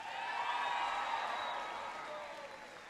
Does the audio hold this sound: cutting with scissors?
no